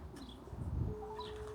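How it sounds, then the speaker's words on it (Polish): A racing pigeon coos softly nearby, a low murmuring call in a quiet setting with a faint whistling tone behind it. "czyli to jest gołąb"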